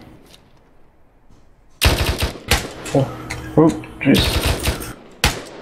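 Automatic gunfire from an Arma military video game: several loud bursts and sharp shots break out after a quiet start, with a voice speaking briefly amid the firing.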